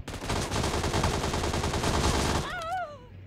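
Rapid automatic gunfire in the mobile shooter game BGMI, a dense close burst of shots for about two and a half seconds, followed by a brief whistling tone and fading echoes.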